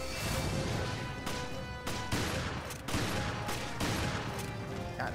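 Video game gunfire in Resident Evil Revelations: dense, continuous rapid shooting with repeated sharp cracks and crashes, loud and steady throughout.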